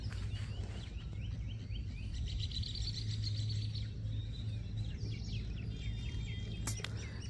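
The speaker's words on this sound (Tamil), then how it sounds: "இது கிராமத்தில் இருக்குதா, அந்த குருவி சவுண்டு இதெல்லாம் பாருங்கள் எவ்வளோ அற்புதமாக அமைதியாக இருக்குன்ட்டு." Sparrows chirping in a village, with scattered high twittering calls over a steady low rumble of background ambience, moderately distant and fairly quiet throughout.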